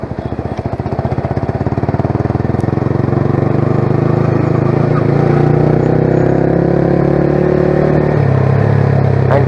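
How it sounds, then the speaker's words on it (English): A Yamaha R15 V3 motorcycle engine runs loud and close, its revs climbing and settling as the rider works the throttle and shifts up through the gears, with a rough, pulsing exhaust note throughout. "you start the bike, let go of the throttle second and then give throttle again"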